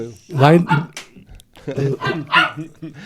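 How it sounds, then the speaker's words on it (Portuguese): Dog barks break out in short yapping bursts close by, tangled with excited talking that runs through the whole moment. "Não é o Felipe CDC que está latindo aqui"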